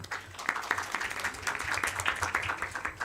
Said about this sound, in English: A clap for sir, please.